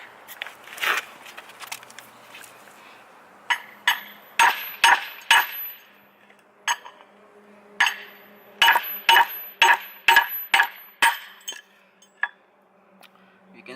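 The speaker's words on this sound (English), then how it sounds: "when you hit the stud, it doesn't hit anything on the bottom" Repeated sharp hammer blows knocking an extended wheel stud out of a wheel adapter, metallic strikes landing in irregular bursts and clusters, close and loud, with no talking.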